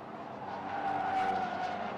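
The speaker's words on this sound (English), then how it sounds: "both of the cars going significantly sideways" Swift Cup Europe race cars at the Hungaroring circuit slide sideways with a loud, sustained tire squeal over engine roar, swelling in the middle before easing off.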